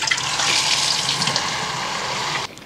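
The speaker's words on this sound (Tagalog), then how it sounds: "Lagyan mo na natin ng tubig itong tank." Water pours steadily from a tap into the plastic tank of a Dreame wet dry vacuum, a loud close rushing stream that stops abruptly near the end.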